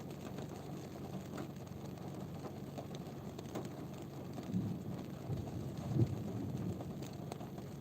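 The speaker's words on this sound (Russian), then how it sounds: "Я просто дождь вам хотел показать." Night rain falls steadily in Grozny in mid-May, a soft, even hiss with faint low rumbles and occasional louder patters.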